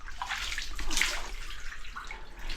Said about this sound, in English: water was just pouring out of the attic